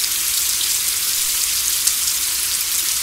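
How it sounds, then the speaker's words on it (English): Steady rain falling at the Sarapiqui River in Costa Rica, a dense even hiss of drops on surfaces that continues unbroken throughout, close and moderately loud with no voices. "In the morning, it's still raining."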